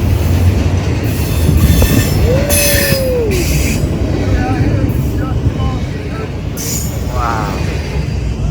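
A long freight train rumbles past close by, wheels squealing and clattering steadily, with occasional voices nearby.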